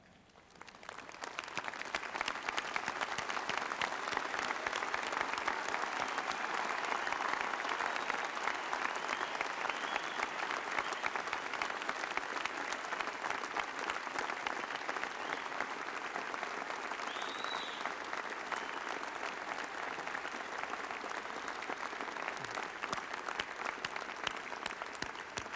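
Sustained applause from a large audience at a 1995 University of Washington commencement ceremony, steady dense clapping filling the space for the whole stretch, with faint crowd murmur underneath.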